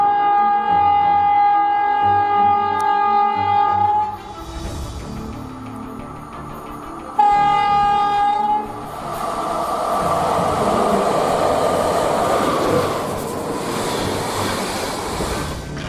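A moving train at a railway line beside a legal crossing, heard as a loud continuous rumble and rolling noise with steady tonal hum, dipping briefly before surging again as cars pass close by.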